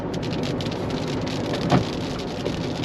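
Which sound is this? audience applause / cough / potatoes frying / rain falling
rain falling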